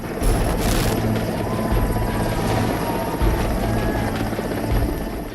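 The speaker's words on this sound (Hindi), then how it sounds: "एयरफोर्स के MI-17 हेलीकॉप्टर के जरिए जब इस शख्स का रेस्क्यू किया गया" An Indian Air Force Mi-17 helicopter flying a rescue, its rotor thudding loud and steady with a constant droning whine throughout, no voices.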